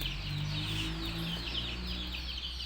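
Young chicks feed on a mixed rice-based feed from a bamboo trough, peeping in a steady chorus of high chirps over a low background hum, with no voices.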